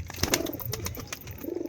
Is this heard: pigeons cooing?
yes